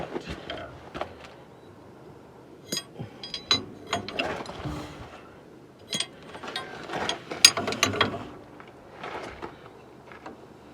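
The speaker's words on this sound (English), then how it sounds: "So now I'm gonna position myself to torque it." A ratcheting wrench torques a bolt outdoors, with bursts of quick metallic clicks in short runs, pauses between strokes, close and moderately loud, no speech.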